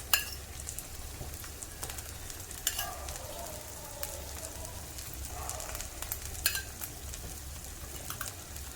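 Oil sizzles softly in a pan while fasting dosa fry, a faint, steady crackle with occasional sharper pops and light utensil clicks, with no talking.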